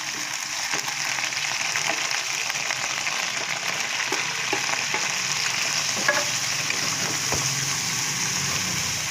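Bagoong alamang (shrimp paste) sautéing in a pan for ginisang ampalaya with egg: a steady, close sizzle with faint scraping stirs and small pops running throughout, with no talking.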